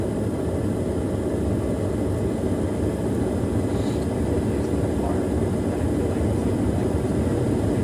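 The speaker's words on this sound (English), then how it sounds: "There's the blower." Luxaire furnace blower running with a steady, dense broadband whoosh and low rumble, loud and constant throughout with no change in level.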